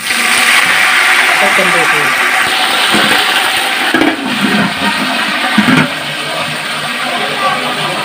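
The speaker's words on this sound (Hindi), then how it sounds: "अभी मैं इसके अंदर थोड़ा सा पानी डालूँगी" Water poured into a pan of fried browned onions hisses into loud, continuous sizzling that dominates throughout, with someone speaking briefly over it.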